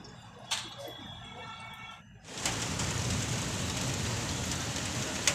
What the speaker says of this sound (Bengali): বৃষ্টিটা থেমে যাচ্ছে